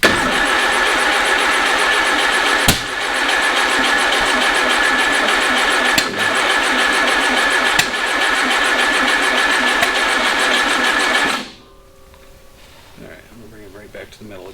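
Go Devil engine starting up and running loudly close by with a steady throbbing drone and a few sharp knocks, then cutting off abruptly near the end, leaving quiet background sounds.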